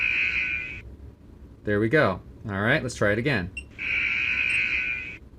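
A sustained electronic buzzer played back through a Horner OCS all-in-one controller sounds loudly, cuts off while someone speaks briefly, then resumes as a long steady tone.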